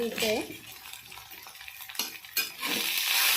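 Coriander and green chili thecha with turmeric powder being sautéed in a pan: a steady sizzle with a few stirring scrapes, fairly close, with brief louder bursts near the end.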